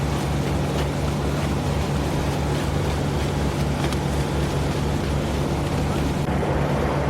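Boat travelling across rough sea, rising waves slapping the hull with a steady deep engine drone and continuous wind and spray noise, loud and close throughout.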